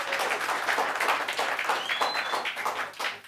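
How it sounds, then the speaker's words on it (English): An audience claps during a talk with Moto3 world champion Brad Binder, a moderate burst of applause that rises and falls for a few seconds. "more applause, why not?"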